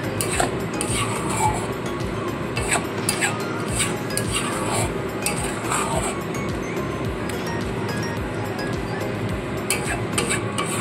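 Fish roe and tomato being stirred in a pan, a steady scraping and clinking of a utensil against the metal with soft sizzling underneath, continuous and close throughout.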